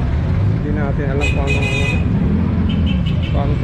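Busy roadside traffic with car engines rumbling and short horn toots near the Sapote area, a loud continuous roar with brief honks around the middle, while someone talks over it.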